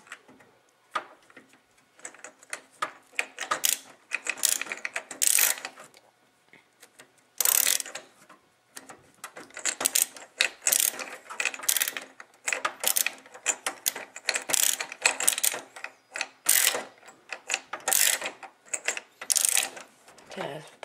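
A screw is driven in by hand to secure an EVGA GeForce GTX 960 graphics card, giving close, rapid ratcheting clicks in irregular bursts with short pauses between them.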